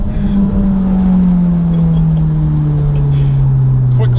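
A 500 whp Mitsubishi Evo X pulls hard through third and fourth gear, its loud, steady engine drone filling the cabin with a strong continuous tone throughout.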